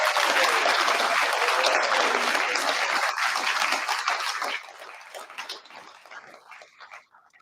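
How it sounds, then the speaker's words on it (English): A dense round of clapping from the audience at a guide dog graduation ceremony, loud at first, then thinning and fading to scattered claps with a few faint sounds after it. "one more round of applause for our entire class of 989"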